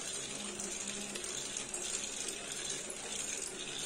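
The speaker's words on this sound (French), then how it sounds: "Donc plus ça va, plus le gyroscope accélère" A spinning gyroscope driving a small generator gathers speed, giving a continuous close mechanical whir with a fine ratcheting texture and no pauses.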